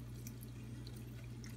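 Chicken broth, the liquid the chicken was cooked in, trickles and drips into a pot for jambalaya, a faint, soft splashing over a low steady hum.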